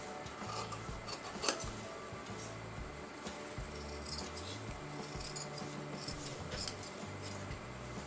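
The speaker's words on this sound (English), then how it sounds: "So now I'm going to cut this out." Scissors snip through canvas to cut out a neckline shape for a kameez or kurti, giving a faint, steady run of small clicks and crunches with one sharper snip near the start.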